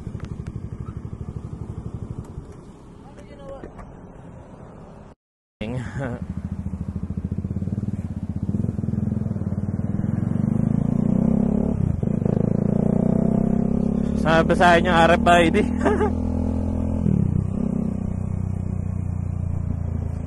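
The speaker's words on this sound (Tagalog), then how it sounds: "ito pala yung tunog nung nabili kong exhaust" Bajaj Dominar 400 motorcycle fitted with an Akrapovic R11 exhaust, idling then revving in rising and falling swells, close and loud, with a brief dropout early on and someone talking over the engine.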